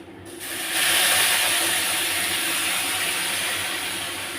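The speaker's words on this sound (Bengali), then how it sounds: "জল দিয়ে দিচ্ছি।" Hot water pours into a pot while pulao cooks, a loud, steady rushing hiss that swells after a short start and holds evenly to the end.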